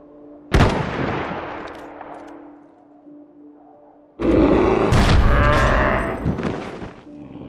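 Gunfire in the strategy game Iron Harvest: a sharp shot cracks out early and rings off into a fading tail, then a dense burst of loud shooting and roaring blasts follows several seconds later, with a steady low hum between.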